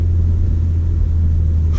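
A 2018 Ford Focus RS in drift mode gives off a low, steady engine rumble, close and continuous through the whole short stretch.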